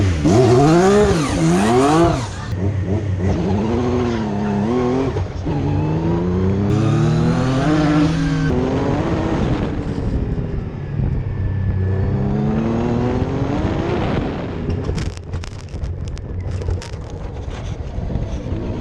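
Twin-turbo 2.5-liter V6 race car on a track, engine loud and close, revving up through gears with rising and falling pitch, repeated upshifts, steady roar throughout with no talk.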